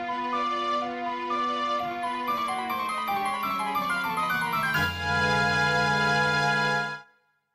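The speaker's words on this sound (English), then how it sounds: "It's the Song of Soaring. It's the one that lets you teleport to the owl statues." A short melody from The Legend of Zelda video game, the Song of Soaring, plays as layered synthesized tones with a bright high line and a deep held chord near the end, with no talk over it.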